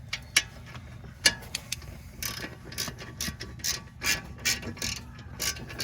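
A ratchet with a 13 mm socket clicks as it removes the brake caliper slide pins on a 2013 Audi S4, giving bursts of sharp, close pawl clicks over a low background hum, with no talking.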